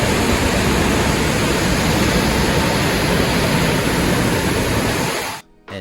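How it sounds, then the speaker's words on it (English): A roaring river rushes through a narrow gorge beside a walking path, a loud, steady wash of white water that fills the whole clip and stops abruptly at the end. "You're walking right beside a roaring river."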